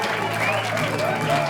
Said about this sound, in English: stage a nice big warm, Tell Us Another One, round of applause, James Liotta.